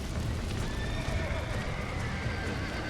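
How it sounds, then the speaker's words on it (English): Horses whinny and neigh inside a barricaded spot in the Western video game Red Dead Redemption, with faint clip-clop of hooves under a steady bed of game ambience and some talk. "all their horses are stuck in here"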